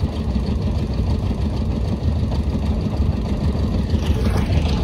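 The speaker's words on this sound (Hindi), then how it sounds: "दरियाए सिंध में ये कश्ती चल रही है।" A motorboat engine drones steadily as a boat crosses the Indus River in rural Pakistan, its loud, continuous mid-low rumble running unbroken throughout with no talk.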